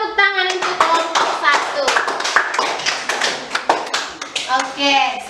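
Classroom students clap together for a presentation group after it finishes, a steady patter of many hands that runs throughout under children's voices talking.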